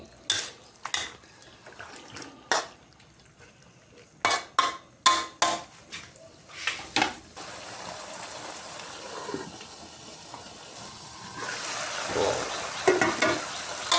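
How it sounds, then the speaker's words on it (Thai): Wild boar pork stir-fried in a pan for a spicy Thai curry, with spatula scrapes and clanks in separate bursts over a steady sizzle that swells louder near the end. "หมูลงไปเลย คี่ยวไปจนสุกเลยนะครับ"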